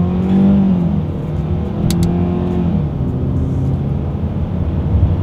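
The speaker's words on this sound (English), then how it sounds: "let's see how quickly we can get our new 2022 Sonata here up to speed" A 2022 Hyundai Sonata sedan launches hard in sport mode with wheelspin, its engine note climbing loudly and steadily close by, with no talking.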